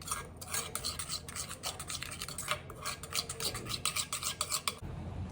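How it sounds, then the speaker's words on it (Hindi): A spoon scrapes softly and rhythmically around a bowl, mixing wild turmeric with curd into a face mask paste in a quiet series of strokes. "अब इसको अच्छे से मिक्स कर लेंगे."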